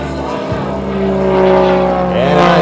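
Extra 300 aerobatic propeller plane at an air show, its engine drone holding steady and loud throughout, with the pitch rising and swelling near the end as it dives and builds speed.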